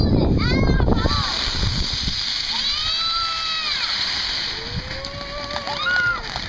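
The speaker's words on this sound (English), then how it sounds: "I'm gonna light the golden shower." A golden shower firework fizzing and crackling outdoors, a steady hissing spray with whistling tones rising and falling, while people talk and shout nearby.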